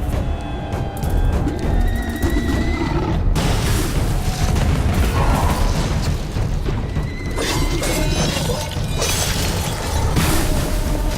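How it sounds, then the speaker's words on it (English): Shots go off in the action game Alice: Madness Returns, mixed with booms and shattering crashes. The combat noise is loud, dense and nearly continuous, with sharper bursts scattered across the clip. "I heard that shot coming."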